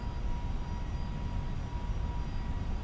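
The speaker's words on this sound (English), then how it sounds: "I like the sound of that rattle right after takeoff" Steady airframe rattle and engine roar fill a cabin just after takeoff in an FSLabs A321neo flight simulator. The broad, continuous rumble holds at an even level throughout, with no talk.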